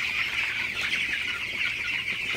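Broiler chickens clucking and chirping close by at dawn, a continuous busy flock chatter with no talking.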